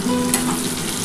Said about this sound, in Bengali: এবার একটু ভালো করে এটা ভেজে নিই বন্ধুরা।